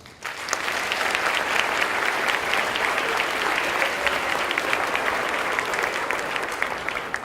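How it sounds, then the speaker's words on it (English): Loud, sustained applause from a large crowd, starting abruptly and continuing steadily with dense clapping before easing slightly at the end. "Folks, give it up for your parents."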